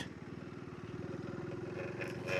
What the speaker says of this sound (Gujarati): અત્યારથી બાઇક તો અહીંયા એ સ્લીપ થવા જ માંડ્યું છે,